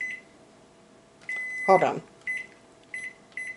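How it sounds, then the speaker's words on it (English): A microwave oven steaming vegetables in a home kitchen hums quietly and gives several short, high beeps, with a brief spoken remark in the middle. "I'm going to steam these veggies in the microwave."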